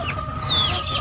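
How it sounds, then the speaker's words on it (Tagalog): A flock of chickens clucks and squawks busily together while being fed bread, with a few higher bird calls standing out over the steady, close farmyard chatter. "nagpapakain ng mga alaga po naming manok, bibi"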